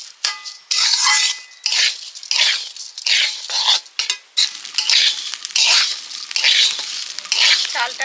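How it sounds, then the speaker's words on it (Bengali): Rice for a festive basanti pulao frying in a pan after cashews, raisins and melon seeds, a steady hiss and sizzle broken by repeated stirring scrapes at a close, even level. "চালটা প্রায় ভাজা হয়ে আসছে।"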